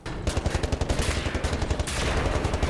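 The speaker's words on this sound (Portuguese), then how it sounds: "E agora a gente atira nele." Rapid gunfire from the first-person shooter Wolfenstein: The New Order, a loud, dense stream of evenly spaced shots that holds without a break and grows slightly heavier toward the end.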